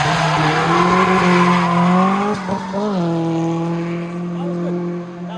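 Tires squeal as a car slides and skids while driving in Japan, a loud sustained screech with an engine note underneath, shifting in pitch as the slide goes on.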